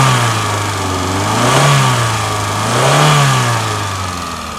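An idling Hyundai Santro Xing car engine, an older model, is revved twice, rising and falling in pitch each time, loud and close.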